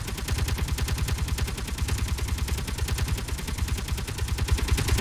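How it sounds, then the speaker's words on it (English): Sustained rapid-fire bursts from mech-mounted machine guns in Space Engineers, a loud, dense, evenly spaced stream of shots running without pause and without talk. "These are the machine guns."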